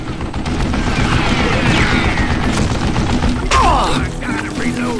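Gunfire in the Western shooter Call of Juarez Gunslinger, a dense run of loud gunshots and rapid bursts crackling continuously, with a swell of shots and ricochet-like whines near the end and a voice faintly underneath.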